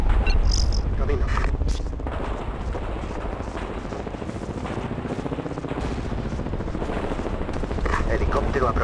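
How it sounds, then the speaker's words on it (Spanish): A helicopter approaches in the game Ghost Recon Advanced Warfighter, its low rotor thrum steady and loud beneath bursts of gunfire, while a voice speaks over the battle. "Helicóptero aproximándose."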